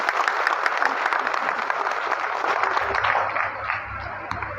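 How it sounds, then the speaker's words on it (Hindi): Applause at a public gathering in Lucknow's cooperative hall honouring a former MP, a dense crowd clapping steadily for several seconds, loud and sustained, easing slightly toward the end. "उनके लिए जोरदार ताली बजाइए।"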